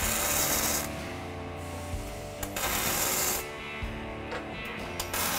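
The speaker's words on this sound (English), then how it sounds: "got the robotic welder going" A robotic welder running in a welding cell at a steel fabrication shop building screen printing presses, giving a steady hissing, crackling arc noise with loud broadband bursts and brief pauses.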